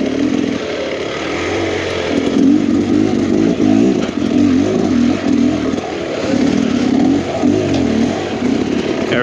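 A Beta Xtrainer 300 two-stroke dirt bike works along a rough trail, its engine buzzing and revving in repeated surges as the rider maneuvers, close and loud with no talking.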